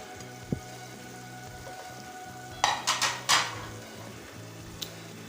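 Chopped capsicum sizzles softly in a pan for chicken macaroni, with a few clattering stirs of the spatula partway through and a steady low hiss throughout.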